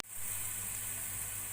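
Garlic paste fries in cooking oil with a steady, bright sizzle that hisses evenly from start to finish, close and fairly quiet, with no voices.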